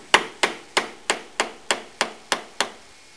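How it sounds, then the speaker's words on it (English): Wide chisel chopping dovetail waste from wood, struck eight times in a steady rhythm, each blow a sharp close knock that rings out briefly, with no voices. "I'm going to go ahead and take a little bit of wider chisel and just kind of get some of this waste out of the way."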